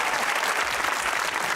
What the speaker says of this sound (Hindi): तालियां बजाओ बेटा।